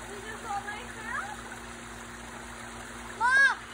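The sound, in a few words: water flowing in a DIY backyard pond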